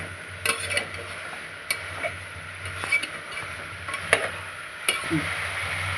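Mixed vegetables with cauliflower are stirred in a pan while cooking for pav bhaji, with scattered scrapes and clinks of the spoon over a low steady sizzle, close and moderately loud, with no talk.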